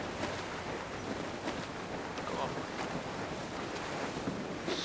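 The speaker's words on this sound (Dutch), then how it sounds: "There's a strong wind now." Strong wind at sea in the pirate game Assassin's Creed Black Flag: a steady, loud broadband rush of gusting air and surf that fills the whole clip, with no clear voices over it.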